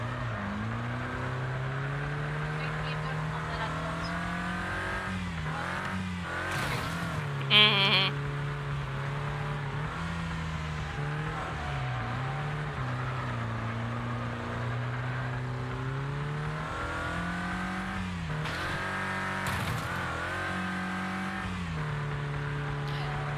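Razor car racing in the Wreckfest video game: a loud, continuous engine roar rising and falling with gear changes and revs, with a couple of brief impacts or scrapes mixed in, and no talk.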